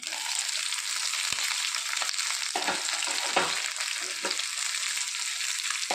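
Snakehead fish fries in a pan over a medium flame, giving a loud, steady, close sizzle that crackles throughout with a few sharper pops and no voices.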